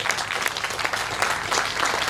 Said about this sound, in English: I think you should get a round of applause